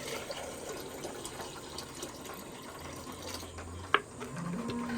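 Water pours and splashes quietly into a bowl over low background noise, with a single sharp knock near the end.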